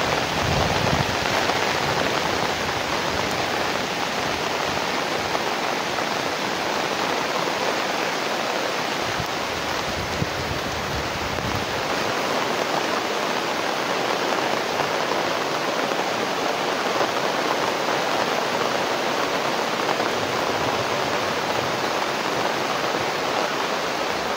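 Heavy rain pours down steadily in a dense, continuous hiss with no pauses, loud and close throughout.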